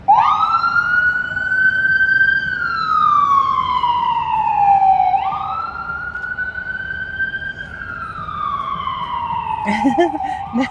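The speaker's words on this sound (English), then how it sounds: "There's that ambulance." Ambulance siren on a Washington DC street at night, loud wailing tone sweeping slowly up and down over steady traffic rumble, close by, with brief talk near the end.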